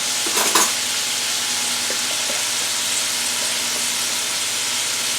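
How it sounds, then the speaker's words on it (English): Garlic frying in olive oil for a smothered chicken dish, a steady, close broadband sizzle that holds the whole time, with a few brief clinks of stirring near the start and no talk. "a little more olive oil. I'm going to put some garlic in here."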